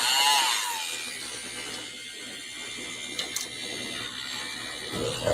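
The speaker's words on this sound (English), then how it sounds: "I'll try it with my drill bit first" A power drill with a small bit bores into wood for a book nook project, giving a steady whirring grind that runs throughout at an even, fairly loud level with slight rises near the end.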